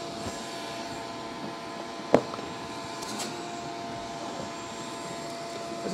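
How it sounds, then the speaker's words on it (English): A 5-horsepower shop vacuum drones steadily with a constant motor whine, broken by a single sharp click partway through. "Now we have a 5-horsepower shop vac pulling"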